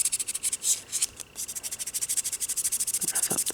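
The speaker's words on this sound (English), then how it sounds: "Now it's going to go in with my buffing block." A buffing block rubs quickly back and forth over glitter nail polish to rough up the surface, a close, steady run of soft scratchy strokes with a brief pause partway through.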